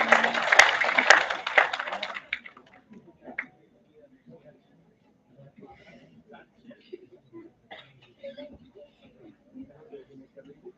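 An audience at a national seminar bursts into applause for about two seconds, a loud dense clatter of hands that quickly dies away, followed by quiet murmurs and scattered voices.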